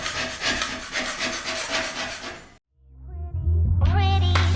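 Hand sanding of a freshly plastered wall with 120 grit sandpaper makes a rapid, close scratchy rubbing, then breaks off into a short pause before a different tonal noise with a low hum starts up.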